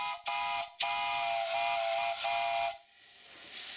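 A brass chime whistle on a Castle steam V6 boiler, blown with compressed air, sounds in a short toot, a brief gap, then a long steady multi-tone blast that stops, leaving a soft hiss of air.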